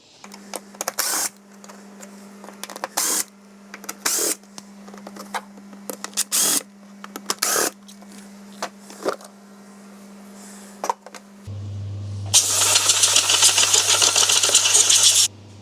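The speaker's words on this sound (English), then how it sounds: "I'm just going to give that a quick blow out, have a look at it, make sure it's not too dirty" Compressed air blown through a K&N panel air filter from a Volvo V70 T5, first as short sharp hissing bursts over a steady low hum, then a louder sustained blast near the end.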